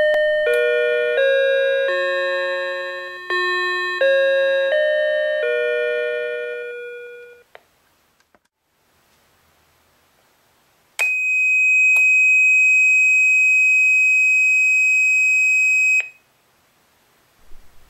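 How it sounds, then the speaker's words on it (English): A remote wireless door entry alert plays its chime tones: a descending multi-note ding-dong melody repeated, a pause, then a long steady high electronic beep, loud and clear with no voices. "we will demonstrate for you some of the tone or chime options to be used with different sensors or"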